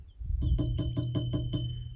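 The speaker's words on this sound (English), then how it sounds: "It's a woodpecker, and it's there it is again. And furthermore it's a bearded woodpecker." A series of sharp, evenly spaced knocks from a bearded woodpecker, about seven strikes in quick succession, ringing out clearly with faint birdsong in the background.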